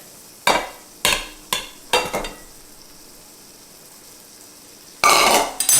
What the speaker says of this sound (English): Now I just put some butter in here, so we're just going to kind of saute them